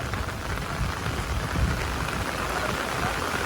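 Heavy monsoon rain pours steadily in the Konkan countryside, a dense, continuous hiss of drops on surfaces with no breaks, loud and close, without talking.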